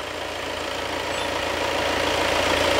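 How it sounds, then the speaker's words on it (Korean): A Volkswagen Tiguan engine hums steadily up close with the hood open, a dense even drone with a faint rattle, growing slightly louder over a few seconds with no voices. "승객석에서는 꽤 조용했는데 엔진 후드를 여니까 소음이랑 진동이 꽤 많이 느껴집니다"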